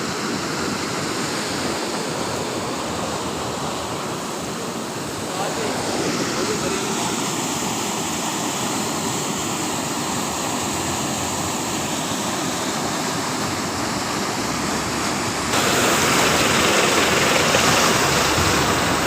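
Floodwater rushing in a steady, loud roar during flooding at Manjhoshori, Nasirabad, Balochistan, with a faint engine hum beneath and a louder surge near the end.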